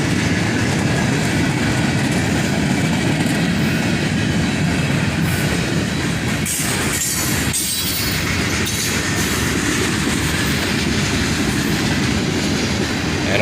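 A CSX freight train with boxcars, including a Big Blue boxcar, rolls steadily past nearby with continuous loud rumbling and clickety-clack, and faint wheel squeal shows up partway through.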